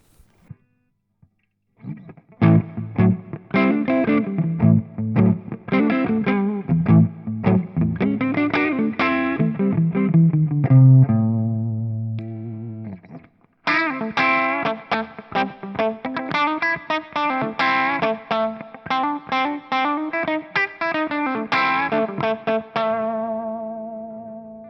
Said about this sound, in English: And now let's go on to the thick mode with that as well.